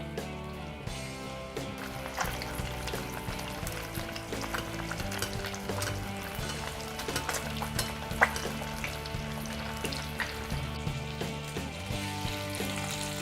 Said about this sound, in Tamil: இப்போ 2 மீன் போதும், நம்ம பொரிச்செடுக்கலாம்.